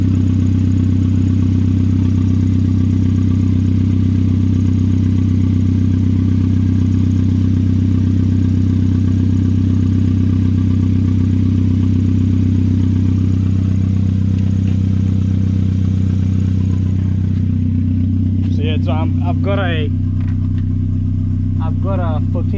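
A turbocharged Hyundai Getz engine idles loud and steady with its exhaust running straight off the dump, a constant deep drone throughout, with a few short bird-like chirps near the end.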